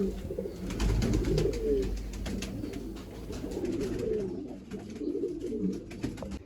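Caged pigeons coo repeatedly in low, throaty rolls, several birds overlapping close by with soft rustling and faint clicks throughout.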